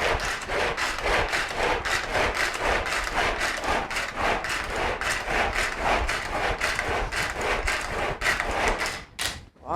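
Leeks being chopped with a manual hand chopper, a steady run of rapid rhythmic chopping strikes, close and fairly loud, lasting almost the whole time before stopping abruptly at the end.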